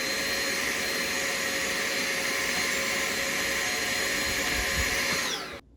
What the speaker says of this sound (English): You could take a vacuum and try and clean this out.